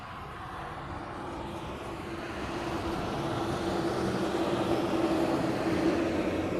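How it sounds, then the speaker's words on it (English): An Airbus A380 airliner arriving in Hawaii, heard as a steady, broad jet roar that slowly swells louder over several seconds, with no voices. "the A380 is next for arrival"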